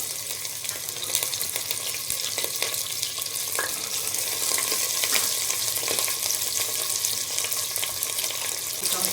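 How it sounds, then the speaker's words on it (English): Chopped jackfruit sautéing in a hot pan, a continuous frying sizzle with scattered stirring clicks and scrapes, close and fairly loud, no talk. "First we will saute this jackfruit till it becomes little brown."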